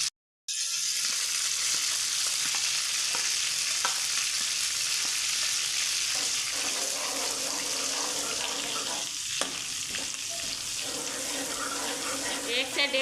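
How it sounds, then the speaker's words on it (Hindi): Garlic-ginger paste fries in about three-quarters of a cup of oil in a kadai, giving a steady, close hiss and sizzle with occasional light stirring. "अदरक का पेस्ट फ्राई हो चुका है"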